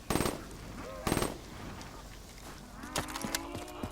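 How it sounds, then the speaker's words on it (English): An M8A7 rifle in Black Ops 3 fires two rapid three-round bursts, loud and punchy, followed by fainter game sounds and clatter. "So the M8A7. This is just the 3 burst weapon."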